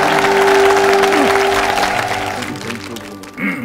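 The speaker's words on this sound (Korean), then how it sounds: "여러분 큰 박수" Studio audience applause on a Korean television talk show, honoring a guest's visit to Dokdo; clapping starts loud and fades, with music tones and voices underneath.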